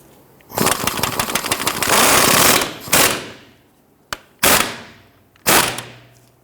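An impact gun snugs down a bolt on the front lower rearward control arm of a Dodge Charger, with a sustained rattling hammer burst followed by several short, sharp bursts, loud and close.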